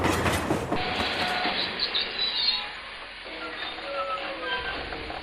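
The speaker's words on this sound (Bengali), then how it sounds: "কুয়াশা চিরে একটা ট্রেনের হুইসেল শোনা গেল" Train at a station at night, a rumble with wheel clatter and squeal that fades quickly into quieter rail noise and faint tones, moderately loud at first and then distant.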